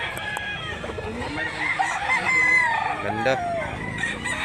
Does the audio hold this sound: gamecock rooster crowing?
yes